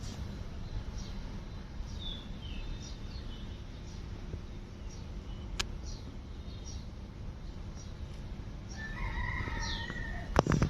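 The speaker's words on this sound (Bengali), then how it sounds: "মোরগ ডাকছে" A rooster crows once near the end, somewhat distant, heard from a rooftop vegetable garden in the morning over steady outdoor background noise.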